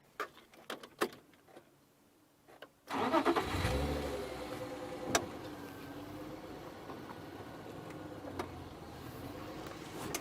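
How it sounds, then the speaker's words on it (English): A safari vehicle engine in the Sabi Sand bush at sunset starts after a quiet stretch with a few knocks, then idles and creeps forward at a steady, close, moderately loud rumble. "we're just going to idle forward a tiny bit"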